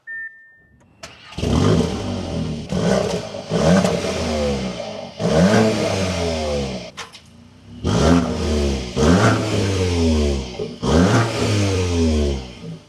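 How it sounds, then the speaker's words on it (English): A 2026 Audi S3 engine starts, then revs up and down repeatedly in several rising bursts, loud and nearby with short idle pauses between. "let's start this up and take a listen to how this sounds"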